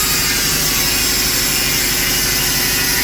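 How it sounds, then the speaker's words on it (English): An angle grinder cuts through the metal back support of a Bombardier Snow 75 snowmobile, giving a loud, continuous, harsh grinding whine with a rough rasping texture, close and unbroken the whole time. "He's grinding off the back support because we got to get in there to get off the those bolts."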